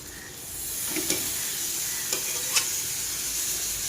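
Washed prawns sauté in hot oil with masala, giving a loud, steady sizzle broken by a few sharp scraping stirs of a spoon against the pan.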